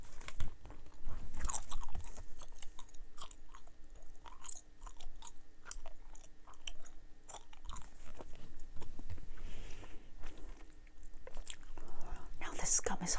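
Someone chews Dubble Bubble watermelon and strawberry bubble gum up close, producing repeated wet smacks and soft crunches in an irregular rhythm, mingled with quiet whispered speech.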